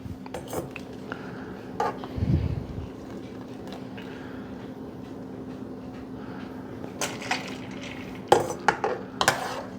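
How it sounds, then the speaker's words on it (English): Blanched green beans go into an ice bath amid clattering pots and utensils, with scattered knocks and clinks and a burst of sharp metallic clanks near the end. "Let's shut this down and stop the cooking and put these in an ice bath."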